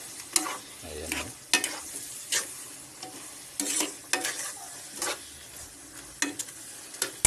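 Dinuguan, a duck blood stew, is stirred in a pan over soft sizzling, with repeated scrapes and clacks of a spoon against the pan at an uneven rhythm, close and clear.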